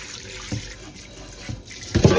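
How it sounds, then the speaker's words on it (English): Tap water running into a sink while rusty kitchenware is rinsed, a steady close splashing flow with a louder gush near the end and no voices. "So what I'm gonna do is basically rinse it. Give it a rinse here."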